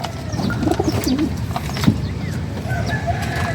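Four pigeons coo low and steadily from close by behind a parked e-bike, with a few soft chirps and faint outdoor background noise.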